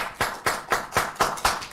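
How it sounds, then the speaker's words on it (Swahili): Audience in a live public forum claps for an arriving government official, a steady patter of hand claps with regular louder surges, fairly close and alone without talk. "Tupigie makofi"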